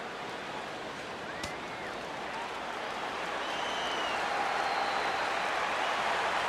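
A large stadium crowd of around 33,000 in the MLB The Show 15 baseball video game rises to its feet, a steady broad roar of cheering that swells louder toward the end, with no talk over it.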